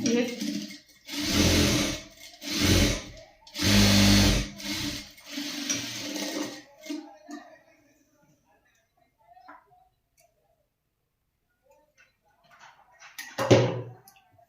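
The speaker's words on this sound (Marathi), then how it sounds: "आता इकडे शिलाई मारून घेते मी." A sewing machine stitches fabric in several quick, loud mechanical runs separated by short pauses, then falls quiet apart from a few faint clicks and a final thump.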